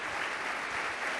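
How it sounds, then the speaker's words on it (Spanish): Applause from a church congregation fills a short burst: dense, steady clapping that holds level throughout with no voices on top. "dar un fuerte aplauso al Señor"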